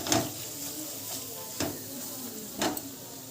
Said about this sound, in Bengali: দিয়ে একসঙ্গে মশলাটাকে একটুখানি কষিয়ে নেব।